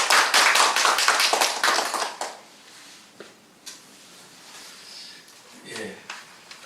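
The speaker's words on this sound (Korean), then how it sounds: "박수로 맞이해 주시기 바랍니다" Audience at a community dialogue gathering clapping in welcome, a quick, fairly close round of hand claps that fades after about two seconds, leaving faint room noise and a few scattered taps.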